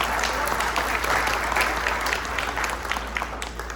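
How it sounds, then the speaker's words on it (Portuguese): Sustained applause from an audience at a community event opening a physiotherapy center, dense continuous clapping filling the room at steady loudness. "Uma salva de palmas, pessoal."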